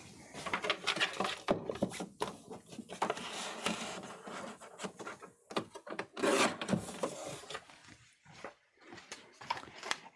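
Paper being trimmed for card making, a run of close scraping and rubbing cuts with short rustling pauses, moderately loud and with no talking.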